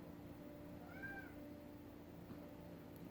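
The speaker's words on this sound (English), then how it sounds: "we have 2 kitties who love to interrupt whenever I'm filming" A pet cat gives a single short, faint meow in a quiet indoor room over a low steady background hum.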